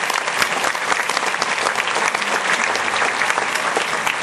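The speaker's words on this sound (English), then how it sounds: "Let's all give a round of applause for the teachers here who have helped prepare us for the future" Steady, dense applause from a large crowd fills a high school graduation ceremony for the Centennial High School class of 2012, honoring the teachers, loud and continuous throughout without pause.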